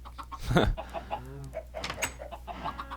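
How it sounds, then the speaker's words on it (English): Short bursts of Minecraft chicken clucking, one louder squawk near the start followed by softer scattered clucks, with a faint steady hum underneath. "I'm actually gonna see if any of these eggs turn into chickens"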